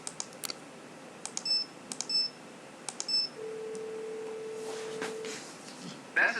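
A phone beeps in a Nancy Drew video game: scattered short electronic tones, then a sustained steady beep lasting about two seconds over a faint background hum.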